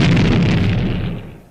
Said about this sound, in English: a load of dynamite exploding in a cave